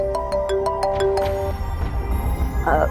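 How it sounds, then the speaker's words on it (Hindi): A phone ringtone plays alone, a bright repeating electronic melody of a few tones chiming rhythmically before fading out over low room noise. "हाँ फोन आ रहा है"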